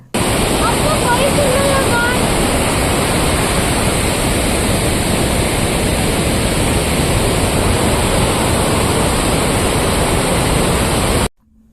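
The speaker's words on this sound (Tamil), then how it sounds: "இப்போ அந்த ஃபால்ஸோட நான் சவுண்டை மட்டும் ப்ளே பண்ணுறேன்" A loud, steady roar of rushing water from Attukad waterfall in Munnar fills the whole stretch without a pause, then cuts off abruptly at the end.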